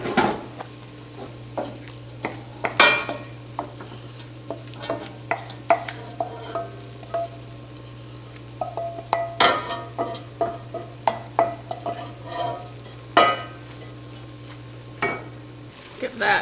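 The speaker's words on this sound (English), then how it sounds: "Give that a stir." Noodles stirred in a sizzling pan during home cooking of a garden-grown dinner, with steady frying hiss under repeated utensil scrapes and clinks against the pan, close and moderately loud.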